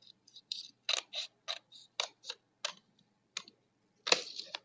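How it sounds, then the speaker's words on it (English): Scissors snip through extra construction paper while making binder tabs, a quiet run of about a dozen crisp, close cuts in an uneven rhythm. "I'm just going to cut some of the extra off"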